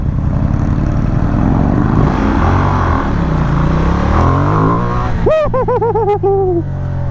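A Ducati motorcycle engine revs hard nearby on a city street, a loud rising drone capped by sharp, rapid blips of the throttle that rise and fall in quick succession.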